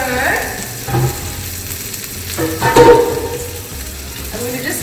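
A beef burger patty topped with cheese sizzles and fries in a pan, a steady crackling hiss close up, with a few louder clanks and shuffles as the pan is handled and covered.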